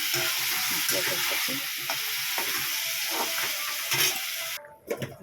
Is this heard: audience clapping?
no